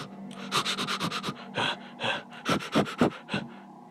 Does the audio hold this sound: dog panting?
yes